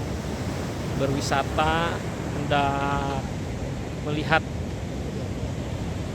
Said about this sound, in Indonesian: menghirup udara segar sambil mendengar deruan ombak yang sangat bagus dan menarik sekali